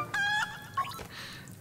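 A rooster from the Link's Awakening remake gives a short electronic clucking call, two quick squawks close up and faint over a quiet game background.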